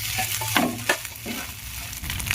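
Noodles being stirred with lightly fried onion in a pan, a steady close sizzle broken by a few sharp scraping strokes of the spoon, with no talking.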